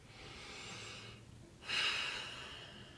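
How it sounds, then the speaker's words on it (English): One deep breath during an EFT tapping session: a long soft inhale, a brief pause, then a louder airy exhale that fades, close and alone. "Big breath."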